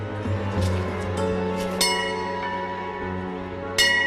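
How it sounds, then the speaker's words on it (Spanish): A church bell tolls loudly and close, with long sustained ringing tones layered over a steady low hum, and fresh strikes landing at irregular intervals throughout. "Desde ese momento, la campana llama a la oración."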